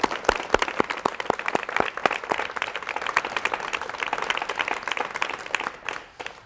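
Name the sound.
studio audience applause welcoming a guest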